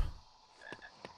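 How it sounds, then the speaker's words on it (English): Frog croaking in a Harry Potter video game, two short distinct croaks about a third of a second apart, near and clear over a quiet background, no talking. "I hear a frog."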